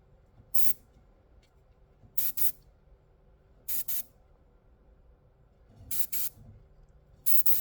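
Airbrush spraying paint straight from the bottle, unthinned, for a chrome test: five short, sharp hissing bursts, some doubled, each about a third of a second long, separated by quiet pauses over a faint low room hum.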